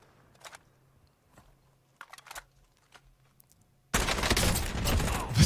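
Gunfire in the video game Call of Duty: Warzone, with a few faint, sparse shots and clicks at first, then a sudden loud burst of sustained automatic fire at the end.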